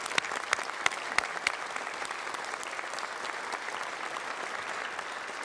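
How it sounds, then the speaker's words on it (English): Steady applause from the crowd at a police academy graduation ceremony, sharp claps at first, then a dense, even wash of clapping lasting several seconds with no speech. "Please join me in giving them a round of applause."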